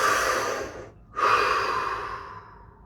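A deep breath taken during a guided meditation: a long, airy inhale, a brief hush, then a steady, gradually fading exhale, close and alone with no talking.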